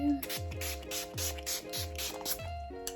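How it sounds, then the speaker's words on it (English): Wet n Wild coconut setting spray is pumped onto a face in quick repeated bursts, about six short hissing sprays in a regular rhythm, close and clear, each with a faint mechanical click from the nozzle. "and then my Wet n Wild coconut spray."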